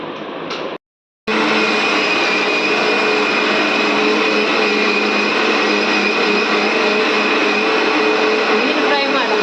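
A kitchen mixer grinder (mixie) runs loudly and steadily, a continuous whining motor roar after a brief silent pause near the start, alone without talk.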